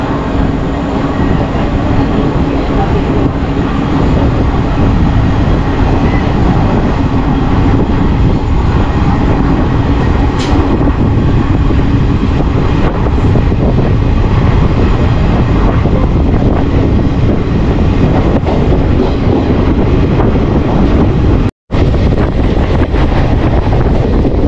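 Bilaspur-Rewa Express hauled by a WAG-9 electric locomotive, heard from on board as a loud, continuous rumble of running coaches with steady wind roar and a brief dropout near the end.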